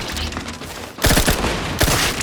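Gunfire in The Outer Worlds 2 video game: a loud burst of rapid shots erupts after a quieter stretch, with a second volley near the end, all dense and sustained.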